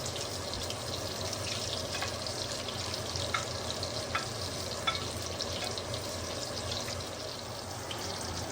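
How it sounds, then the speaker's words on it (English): Steady sizzling of chicken frying in a pan, a constant crackling hiss with a few small pops, no voices. "let that sauce thicken up while our chicken is frying"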